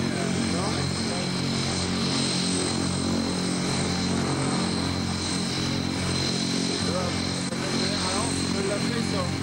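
Propeller aircraft engine at a 1993 air show at Cambrai air base, a steady loud droning roar held without a break, with crowd voices faintly beneath.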